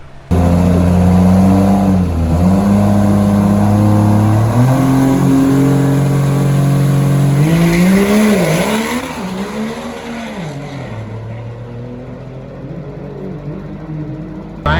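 A Cummins-powered diesel race truck drag racing, its engine roaring loud and close with rising revs, then easing to a lower drone as it fades a little toward the end.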